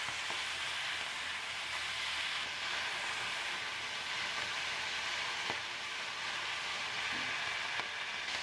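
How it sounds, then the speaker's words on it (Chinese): Chili bean paste fried in hot oil with minced scallion and ginger gives a steady, dense sizzle and crackle with occasional scrapes of stirring, close and continuous with no one talking. "先加入葱姜末进去炒香，再加入剁好的豆瓣酱进去，炒出豆瓣酱的香味"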